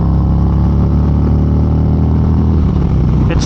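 Harley-Davidson motorcycle with a 108 cubic-inch engine running steadily, a loud, close, continuous low rumble with even harmonic throb and no talk.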